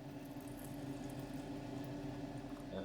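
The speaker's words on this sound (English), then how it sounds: "In goes the boiling water" Boiling water is poured into a container over a Matchbox K-21 Mercury Cougar model casting, a faint, steady liquid gurgle and rush with a slight splash at the end.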